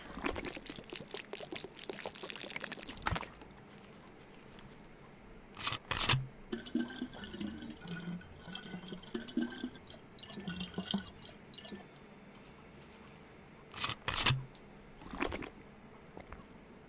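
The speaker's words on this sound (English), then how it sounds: "Pouring that away and refilling." In the video game DayZ, water is poured away and a container refilled, giving soft liquid pouring and dripping sounds between several sharper splashy bursts, fairly quiet overall.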